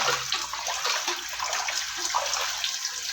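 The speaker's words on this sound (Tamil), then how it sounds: "இப்போ திருப்பி அதே மாதிரியே கழுவிடுறாங்க." Fish pieces washed by hand in a vessel of water in a home kitchen, giving a steady close splashing and sloshing that runs throughout with no pauses and no talk.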